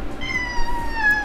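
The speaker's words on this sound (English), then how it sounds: "Cat." A cat meows up close, giving one drawn-out, wavering call that rises and falls in pitch over roughly a second, with no other sound around it.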